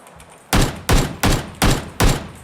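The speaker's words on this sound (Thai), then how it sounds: "มีคนยิงมึง" Gunfire in PUBG Lite comes as four loud, evenly spaced shots or short bursts that crack close and sharp, each trailing off briefly before the next, with no voices over them.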